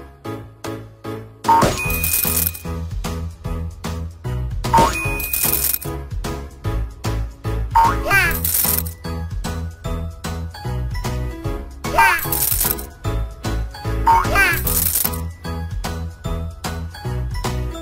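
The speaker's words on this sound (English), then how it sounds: "Click to jump and help Emma collect bottles and coins." Bright coin-collecting chimes ring out about five times at irregular intervals over upbeat background music in the Sweet Baby Girl Daycare 4 kids' game.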